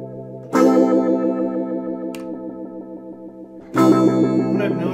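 An electric guitar runs through an Electro-Harmonix Blurst modulated filter pedal at full effect blend, giving sustained strummed chords with a rhythmic, pulsing filter sweep; a fresh loud strum enters near the end and the sound carries on without any talking.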